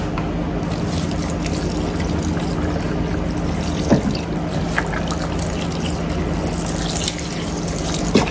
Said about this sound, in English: I had to add a little water because I did have a lot of chicken, so I have to add a little water